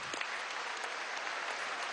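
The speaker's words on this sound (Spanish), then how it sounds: "Un aplauso para ustedes," Brief, steady crowd applause at a political party congress in a large hall, a continuous roar of clapping throughout.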